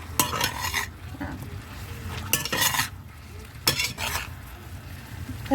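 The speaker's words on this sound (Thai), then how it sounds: "ค่อยๆผัดไปเรื่อย ๆ ค่ะ คลุกเคล้าไปเรื่อยๆค่ะทุกคนค่ะผัดเขาให้เครื่องแกงกับไก่เขา" Chicken stir-fried with curry paste in a pan makes a low sizzle under repeated scraping strokes and clattering taps of a utensil against the metal, close and uneven in rhythm.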